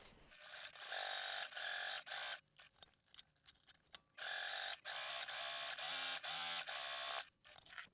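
A sewing machine stitches a backpack seam at a quarter-inch allowance, running in loud, steady mechanical bursts of rapid whirring, broken by short pauses and a few clicks between runs.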